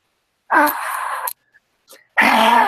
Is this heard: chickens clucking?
no